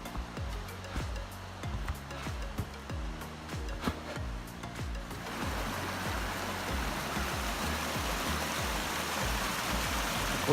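A mountain stream in the Ariège runs beneath a huge rock, a steady, close, full rushing with a low rhythmic knocking in the first half that gives way to an even, broad wash of water.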